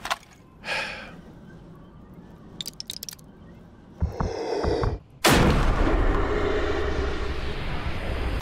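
A sniper rifle shot in a video game booms suddenly and loudly near the end, after scattered clicks and a brief burst of gameplay noise, with a sustained rumbling tail ringing on afterward.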